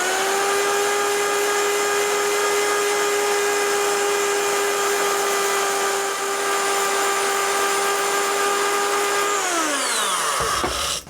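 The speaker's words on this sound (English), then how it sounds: "once we've got the majority of the meat off with the power file" A power file belt sander grinding a deer antler for a thumbstick, a loud steady high whine with a rough abrasive hiss that runs evenly, then winds down in pitch near the end as the motor stops.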